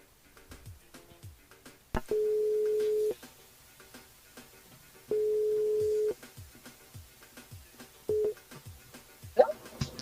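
A phone call on a French radio show rings out through the line: three long steady ring tones separated by pauses, the last one cut short, with faint background sounds around them.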